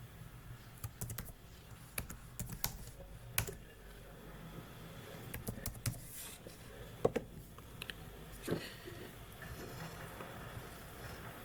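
A password typed on a computer keyboard, a quick irregular run of light key clicks and taps with a few louder strikes, heard close against quiet room noise and with no talking.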